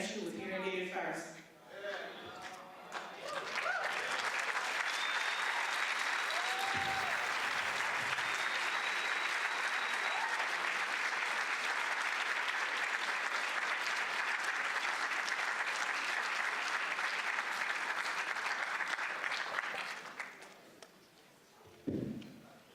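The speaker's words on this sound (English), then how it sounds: "Let's give Ms. Jones another round of applause." An audience at a history and culture conference breaks into long, dense applause with scattered whoops and cheers, building quickly after a brief spoken moment and dying away near the end, followed by a voice.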